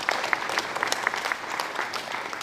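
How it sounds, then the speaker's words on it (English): Applause for the coaching staff at a school wrestling awards night, a steady crowd clapping with sharp individual claps scattered through the indoor audience, unbroken for a couple of seconds. "Let's give our coaching staff a round of applause."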